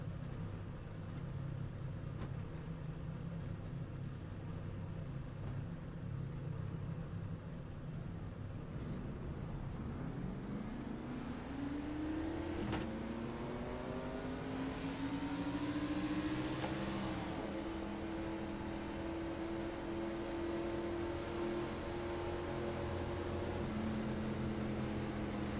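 A Gen 4 stock car in the iRacing video game, a Ford Taurus rolling a lap at Charlotte. The engine hums faint and steady, then rises in pitch as it accelerates and holds a higher drone.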